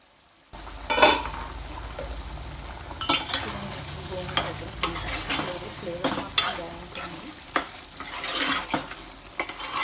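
Sorrel leaves and chicken fry in oil in a pan for Andhra-style gongura chicken, sizzling steadily while a spoon scrapes and clanks against the pan in repeated stirring strokes.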